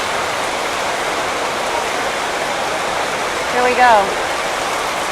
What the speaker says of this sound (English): Taking advantage of the rain, man.